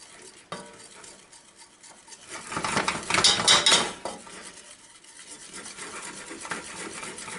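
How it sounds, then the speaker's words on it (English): Eggs being whisked slowly into salted caramel walnut pie filling, a steady scraping stir of whisk against bowl that swells louder midway and then settles back to a softer, continuous rhythm. "I'm going to very slowly, while whisking, temper in my eggs."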